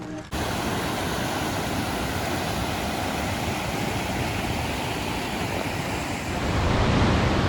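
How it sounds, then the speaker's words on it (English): A small waterfall stream beside a mountain trail near Elfin Lakes gives a loud, constant broadband rush of falling water, close by, swelling slightly toward the end with no talk. "So just passing by this little waterfall stream area."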